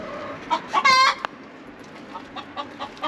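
Chickens in a backyard coop in a Los Angeles hillside neighborhood cluck in a few short, close bursts, with one louder, longer call near the middle, then fainter scattered clucks.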